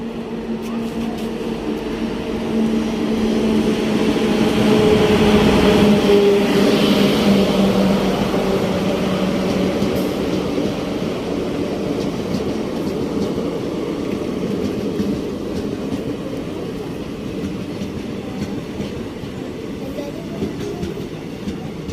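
Parasuram Express train pulling into Thrissur station, a steady loud rumble of wheels and carriages with a clickety-clack rhythm that swells around the middle and then rolls on evenly, nearby and continuous.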